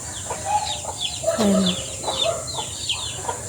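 Several chickens clucking and chirping close by in a busy, overlapping chorus, with a short spoken word in the middle.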